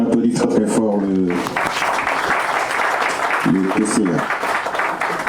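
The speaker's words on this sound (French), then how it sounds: "On applaudit très très fort le" Audience applause fills a signing ceremony for a decree on a new medical coverage rate, steady and dense throughout, with someone speaking over it at the start and again near the end.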